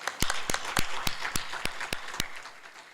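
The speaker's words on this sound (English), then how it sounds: "Please help me in giving him a round of applause one more time." Banquet audience applauding, with a few sharp nearby claps standing out over a dense, steady patter of many hands that runs the whole time.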